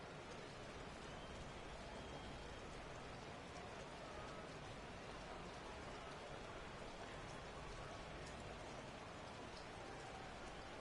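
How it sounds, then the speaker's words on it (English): Steady rain falls throughout a second-half football game between Baltimore and Indianapolis, a continuous broadband hiss of drops on surfaces with faint distant murmur and no clear speech. "The rain set to continue as we are underway in the second half."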